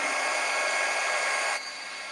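Heat tool blowing hot air to melt solid-color embossing powder on a brad held in reversible tweezers for a spring door wreath, a steady loud whirring hiss that drops slightly in level near the end, with no talk.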